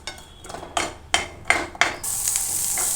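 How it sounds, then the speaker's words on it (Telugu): Brinjal pieces fry lightly in a little oil while a spatula stirs them, producing four sharp scraping clanks against the pan followed by a steady bright sizzle, close and loud, with no talking. "దీన్ని ఇలా మిక్స్ చేస్తూ వేపేద్దాం"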